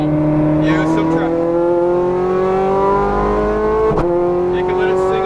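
Ferrari 430 Scuderia V8 revving hard on a Las Vegas race track, loud and steady with rising engine pitch through the gears and a brief sharp burst near the end, while an instructor talks over it.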